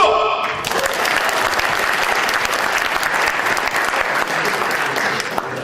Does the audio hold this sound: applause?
yes